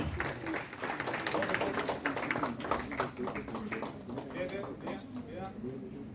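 A crowd at a school award ceremony claps continuously, a dense patter of many hands at moderate distance, while a voice talks over it.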